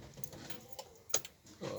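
Car keys jangle faintly beside a Hyundai Accent with a gasoline engine, several soft metallic clinks and one sharper rattle over a quiet background.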